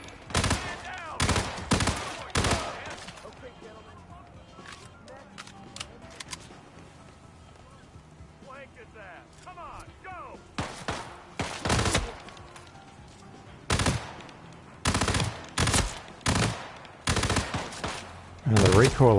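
Rapid bursts of weapon fire crack out in the video game Hitman 3, loud clusters of shots at the start and again in the second half, with quieter game sounds between.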